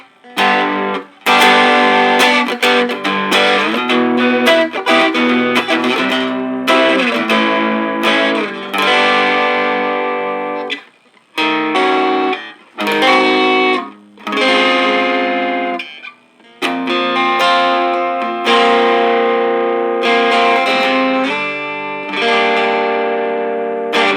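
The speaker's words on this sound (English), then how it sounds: "now we're going to try the drive mode" An electric guitar played with overdriven, distorted tone, strummed chords and riffs ringing out in bursts with short pauses, loud and close.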